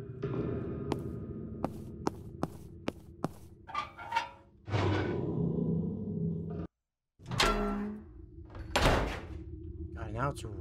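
A door in the horror game Hanefeild Asylum gives a heavy thunk over droning ambience, with sharp knocks before it and further bangs and clatter afterward.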